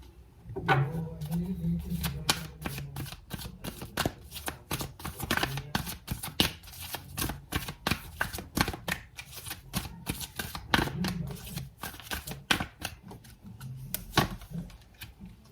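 A Wisdom Oracle card deck is shuffled close up, rapid repeated riffling and snapping card bursts in an irregular rhythm for the whole stretch, fairly quiet and with no talking.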